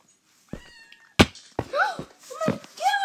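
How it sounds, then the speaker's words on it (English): A stray cat in the video game Minecraft gives several short meows, spaced out and clear, close by, with a voice briefly in the background. "A stray cat!"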